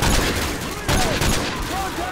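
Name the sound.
semi-automatic gunfire in video game Modern Warfare 2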